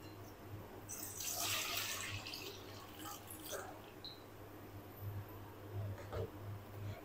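About a litre of water is poured into a kadhai for boiling cauliflower, a steady, soft rushing splash that swells and eases, fairly close but quiet.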